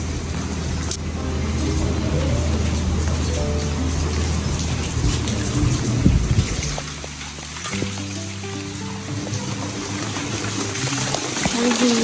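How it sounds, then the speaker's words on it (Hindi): Heavy monsoon rain falls steadily at about 1:30, a constant hiss of drops with a passing car rumbling through midway and low background tones. "ये देखें जी, 1:30 बजे हो रही है बारिश। इतनी प्यारी बारिश हो रही है।"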